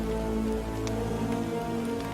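Steady rain pours down in a short burst, a dense even hiss of drops on surfaces with a low background hum, with no voices.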